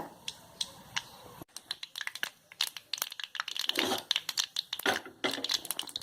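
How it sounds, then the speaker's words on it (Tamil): Mustard seeds splutter in hot oil during tempering, giving scattered sharp pops and crackles that start sparse and thin, then turn dense and busy after a brief break, with no talking. "கடுகு நல்லா பொரிஞ்சிருச்சு"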